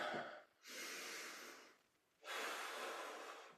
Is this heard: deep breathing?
yes